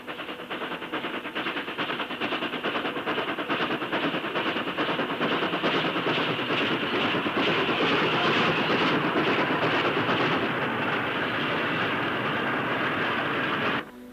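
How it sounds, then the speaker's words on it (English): BR Standard Class 9F steam locomotive 92165 climbing toward Heswall Hills with ten loaded iron ore hoppers of 910 tons, a loud, steady exhaust beat with rhythmic clanking wagons close by, continuous throughout. "This train, with 10 loaded hoppers, weighed in at 910 tons."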